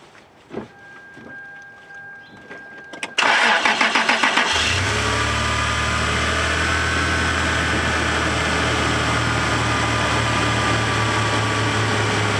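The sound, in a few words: car engine starting after jump from Stanley jump box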